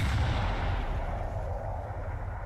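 Battleship guns fire in a naval combat game, a deep heavy boom with a long rumbling decay that fills the short moment, loud and close.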